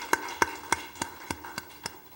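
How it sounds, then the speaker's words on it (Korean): Hand claps during a Sunday daytime worship service in a church, heard as seven crisp, evenly spaced claps in a steady beat, fairly close and with little else around them. "우리 힘차게 박수 한번 치겠습니다"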